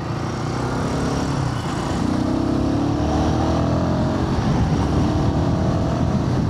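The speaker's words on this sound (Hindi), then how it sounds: "बाइक में इंजन नॉइज़ तो आई है, थोड़ा टैपेट ज़्यादा लाउड हो चुके हैं" A Royal Enfield Guerrilla 450 motorcycle runs with loud tappet noise, a steady engine drone rising slightly as it pulls along a road, continuous and fairly loud with no talk.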